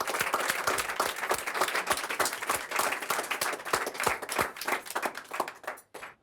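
A small group claps close by in a quick, uneven patter of distinct hand strikes that runs steadily and then stops abruptly near the end.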